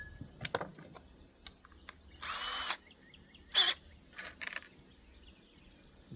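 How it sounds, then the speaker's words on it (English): A power drill driving screws through a plastic or rubber pan into the bottom of a bucket and a wood block beneath, with two short whirring bursts among clicks and handling noises, fairly quiet. "we're going to screw this pan to the bottom of the bucket"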